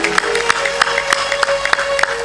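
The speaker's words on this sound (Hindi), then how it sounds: "तालियां जोर से बजाया करो।" An audience at a Hindu religious discourse by Sant Shri Asang Dev Ji claps in a steady, evenly spaced rhythm. The clapping sounds over a sustained held musical tone, with no talking.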